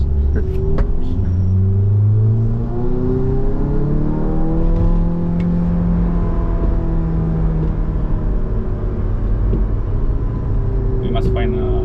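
VW Golf 7 GTI ClubSport with ride modifications pushing hard around the Nürburgring, its engine droning and rising through the gears in a steady, loud in-cabin roar, tires and wind rushing beneath, with people talking over it.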